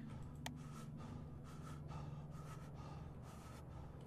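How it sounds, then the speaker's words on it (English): Heavy, rhythmic breathing in a horror game about visiting grandma, several slow drawn breaths and gasps, faint and steady over a droning ambient hum. "Why are you breathing like that?"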